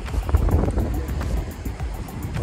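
Fast-flowing river water rushes across a high mountain road in Ladakh near Khardung La, a steady broadband roar mixed with wind buffeting the microphone and no voices.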